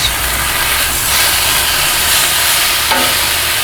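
Chicken for cheesesteaks fries loudly on a Blackstone flat top griddle in a steady, close hiss, with a brief metallic scrape near the end.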